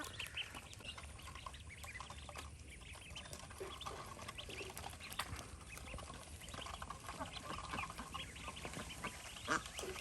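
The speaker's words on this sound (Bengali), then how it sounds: "নানি বাড়ির আঙিনায় সুন্দর করে হাঁসের বাচ্চাকে আদার খাওয়াচ্ছে" Ducklings quacking in a village yard, a steady busy chatter of small peeps and quacks with background noise throughout.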